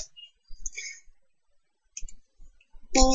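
Sharp plastic clicks and clacks come from a Rubik's cube being twisted by hand, in short irregular bursts separated by pauses, close and fairly loud.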